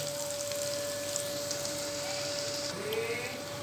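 A sweet poha (aval) cutlet fries in a pan, a steady soft sizzle with faint crackles continuing evenly throughout.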